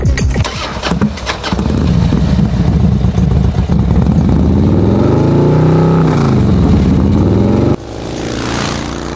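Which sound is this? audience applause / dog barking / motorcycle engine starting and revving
motorcycle engine starting and revving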